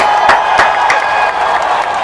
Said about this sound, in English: Let's give a Thor another round of applause.